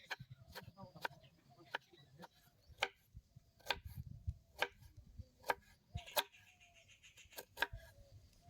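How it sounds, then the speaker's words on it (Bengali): Knife chopping tomato on a board for a goat tripe curry, a steady series of sharp, close taps at an irregular, unhurried pace, with faint background rumble between strokes. "এবার আমি টমেটোটা কেটে নেব"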